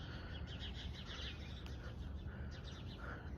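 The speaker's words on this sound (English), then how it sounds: "They all chirping." Small birds chirp in bushes outdoors, repeated quick tweets at moderate distance over a steady background hiss.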